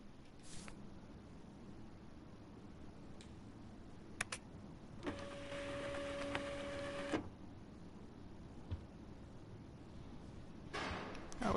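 A printer in the game Life is Strange runs a short print job, a steady mechanical whir with a faint tone lasting about two seconds, plus a few soft clicks over quiet ambience.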